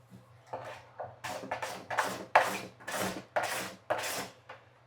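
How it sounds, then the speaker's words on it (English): A hand card scraper drags across the finish of a wooden cabinet door in a run of about eight short, raspy strokes, close and fairly quiet, with a low hum underneath. "One really nice thing about this card scraper is I can get right into these corners."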